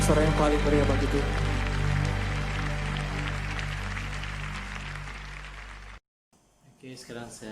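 Church congregation cheering and applauding in praise, a dense, loud wash of claps and voices with music underneath, cutting off abruptly near the end before quieter sound resumes.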